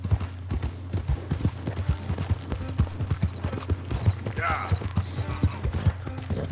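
Hooves of a horse in Red Dead Redemption 2 clip-clop at an even walking pace, each strike crisp and close over a low hum, with a brief higher-pitched sound partway through.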